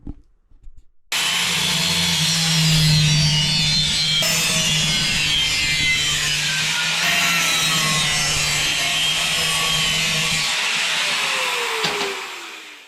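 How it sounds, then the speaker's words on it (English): Cutting a cap out of a motorcycle fuel tank for an under-seat tank on a BMW adventure bike, a loud continuous harsh grinding cut lasting about ten seconds that winds down at the end, close and without talk. "we'll start by chopping this cap out"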